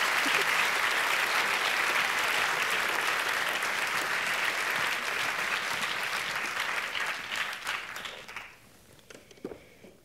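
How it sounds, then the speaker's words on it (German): Large audience applause at a celebration of a university's 150th anniversary, a dense, loud wash of clapping that holds steady and then tapers away to a few scattered claps at the end. "das verdient erstmal einen riesengroßen Applaus"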